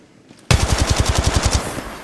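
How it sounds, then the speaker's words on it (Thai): One close, loud burst of about a dozen rapid automatic gunshots in the Apex Legends Mobile battle royale shooter, lasting just over a second after a quiet start. "กำลังโดนยิง"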